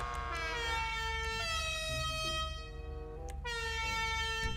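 A loud, sustained multi-tone custom car horn in Grand Theft Auto V Online blares continuously, shifting pitch in a few steps like a musical air horn, with no voices.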